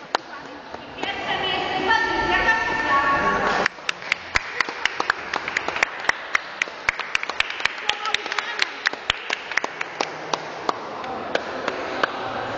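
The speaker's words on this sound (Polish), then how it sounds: "Damian brawa bije." People clap in a room, a rapid crackle of claps at first, then a steadier run of sharp individual claps in an uneven rhythm, close and fairly loud, with voices talking under them at the start.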